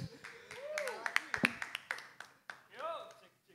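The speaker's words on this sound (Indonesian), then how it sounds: "tepuk tangan sekali lagi buat Gerardo" A small group claps in a short burst of sharp, uneven hand claps close by, with people talking over and around it.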